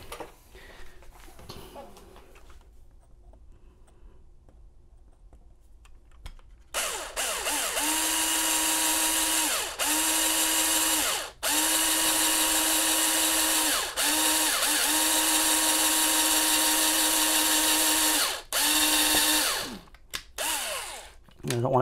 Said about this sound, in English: I'm just going to drill a 5/32 hole right there.